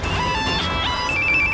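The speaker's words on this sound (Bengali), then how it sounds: "মরার ফোন।" A mobile phone ringing, a short burst of bright electronic ringtone tones over a busy, cluttered background.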